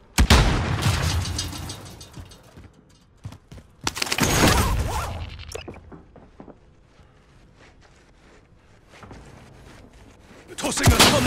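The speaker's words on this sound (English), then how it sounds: "stun grenade out" Stun grenades going off in Call of Duty: Modern Warfare, two sharp loud bursts a few seconds apart, with mechanical clatter and footsteps between, and a third blast starting at the end.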